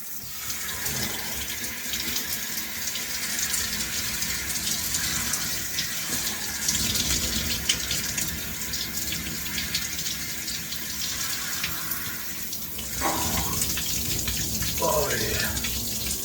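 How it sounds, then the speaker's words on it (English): A shower runs on its coldest setting, a steady close hiss of falling water that spatters and shifts as someone moves under the spray near the end. "Anyways, let's take the shower. And we're gonna start with cold and keep it on the coldest setting for the entire shower."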